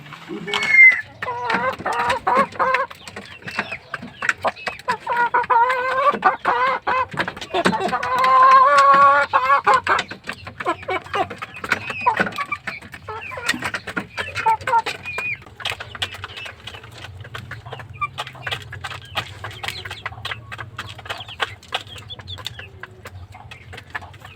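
Roosters and hens kept with a horse in a backyard pen, clucking and crowing in bursts over the first half, then quieter scattered calls with a low steady hum underneath.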